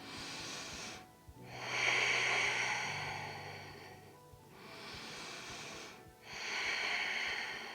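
Slow, deep breaths in a yoga flow: two long, close airy inhales and exhales, each breath a soft hiss separated by short quiet pauses.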